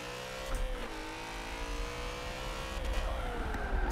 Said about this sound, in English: It's kind of like my Corvette revs out right when I should initiate.